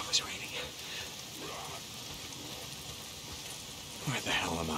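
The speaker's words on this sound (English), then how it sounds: "It's the goddamn rain. Why is it always raining?" Steady rain hisses throughout the wasteland of the video game Days Gone, a broadband wash of falling drops; a voice cuts in briefly near the start and again near the end.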